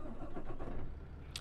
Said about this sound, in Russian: Так, запускаем двигатель